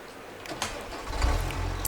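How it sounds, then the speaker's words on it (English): Game engine of a New Holland tractor in Farming Simulator 25 rises from a low idle into a steady, louder rumble partway through, with a few short clicks and knocks over it. "And a nice little New Holland tractor."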